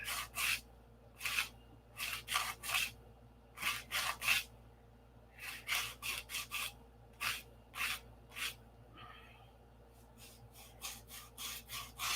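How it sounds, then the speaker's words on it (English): Hand sanding a P-47 model pushrod at an angle, short rhythmic rasping strokes in quick bursts, close and fairly loud, with brief pauses between groups of strokes. "Sand this at an angle."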